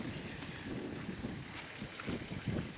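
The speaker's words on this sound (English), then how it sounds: "Seems quite windy still in here" Steady wind buffeting a microphone at a coastal campground on the Yorke Peninsula, South Australia, a broad continuous rush with low gusty thumps swelling toward the end; no voices.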